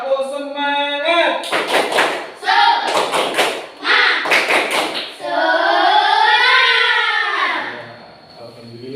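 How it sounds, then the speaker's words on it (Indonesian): Schoolchildren in a classroom perform a rhythmic group clapping chant, loud close bursts of hand claps and thumps in patterned groups alternating with their sung, chanted voices. "Sekarang kita tepuk semangat dulu ya."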